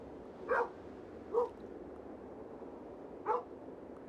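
A dog in the video game Kingdom Two Crowns barks four times in short, evenly spaced bursts. The barks are fairly close and moderately loud over a soft, steady background hum.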